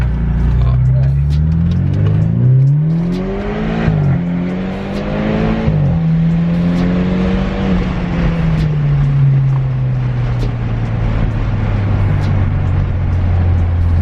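BMW F30 with a piggyback tune pulling hard on a test run, engine note climbing through gears with shifts, then settling into a steady cruise drone, loud and close inside the car.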